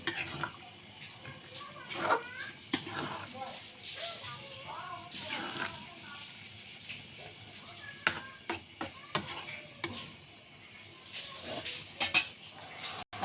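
River fish and eggplant are stirred in a pan, with a spoon scraping and clinking against the metal amid a soft sizzle and scattered sharp knocks.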